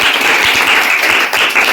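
An audience at a parent-teacher meeting claps for teachers of classes one to three, a loud, dense, sustained applause of many hands close by with no talk over it.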